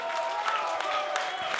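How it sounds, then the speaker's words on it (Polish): A crowd at a 2014 WBW freestyle rap battle in Łódź claps and cheers in a brief, dense burst of noise that fills the room. "zróbcie jakieś brawa, LDZ."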